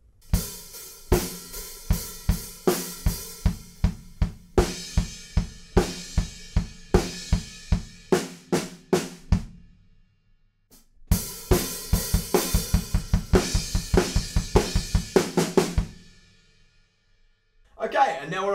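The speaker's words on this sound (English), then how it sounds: "there's this big fill that goes over kind of four bars right before we drop down" Full drum kit playing a big four-bar fill at the end of the chorus in a song: loud, rapid rhythmic hits with cymbal crashes, a brief gap, then another dense run of strikes, with no voices.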